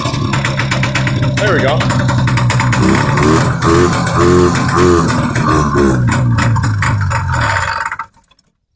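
A 1979 Arctic Cat Jag 3000 snowmobile engine runs loudly and steadily close by, with its pitch wavering as the throttle shifts. Someone talks over it briefly, and the engine cuts out near the end.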